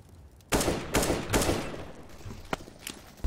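Gunfire in Counter-Strike: Global Offensive: three quick loud shots in a tight burst with ringing tails, then a pause and two more sharp, isolated shots further apart, with no talk over them.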